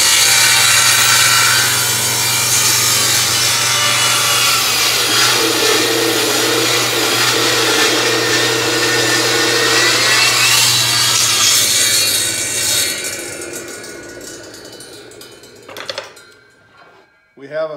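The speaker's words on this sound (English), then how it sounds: "Final step is to cut these jagged edges off." Saw cutting jagged edges off a handmade wooden cutting board, a steady loud rasping stroke that runs for about twelve seconds and then fades out, followed by a few brief knocks.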